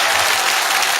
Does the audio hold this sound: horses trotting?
no